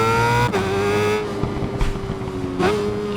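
A BMW S1000RR motorcycle races around a circuit in the Ride 5 video game, its high engine whine holding steady between sharp gear-shift drops, loud and close with tire noise beneath.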